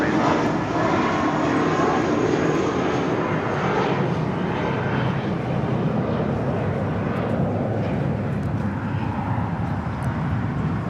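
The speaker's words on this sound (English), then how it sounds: "This is JetBlue Airways 1180 departing to Las Vegas on an A320." A JetBlue Airways A320 airliner departs LAX bound for Las Vegas, its engines a loud, steady broadband roar that holds strong across the whole stretch, with faint voices underneath.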